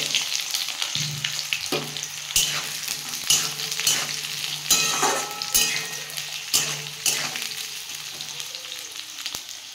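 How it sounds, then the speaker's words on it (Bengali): Onions fry in hot oil in a pan with dry red chillies and bay leaves, a steady close sizzle broken by repeated scraping stirs and clinks of the spoon, with no talking. "পেঁয়াজটা আমি লাল লাল করে ভেজে নেব।"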